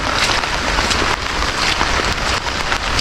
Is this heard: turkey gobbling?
no